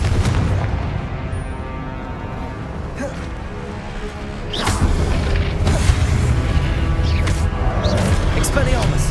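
Confringo explosive spell blasts in Hogwarts Legacy: loud booming detonations over a dense, rumbling battle din, with a heavier surge of blasts midway and crackling bursts after.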